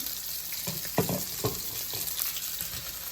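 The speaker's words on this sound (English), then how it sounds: "So we're gonna give this a stir." Beef fat rendering into tallow is stirred in a pot, with a steady bright sizzle of the melting fat and a few soft scraping strokes from the spoon, fairly close.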